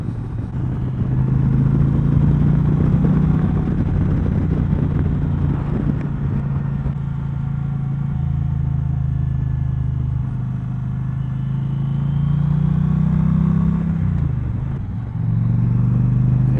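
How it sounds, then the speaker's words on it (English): An Indian Challenger motorcycle engine runs steadily at idle with a deep, even rumble, close and loud, dipping briefly near the end before settling back. "engine runs like a champ"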